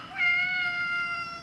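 A cat meows once, a clear, close, drawn-out call standing alone over a quiet room.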